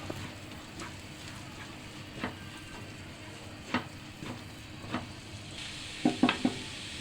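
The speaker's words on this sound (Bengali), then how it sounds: "আদা রসুনটা আবার ভাজা হয়ে গিয়েছে" Chopped ginger and garlic frying in a pan for creamy cheese pasta, a soft steady sizzle with several sharper scrapes and clinks of stirring that grow busier toward the end.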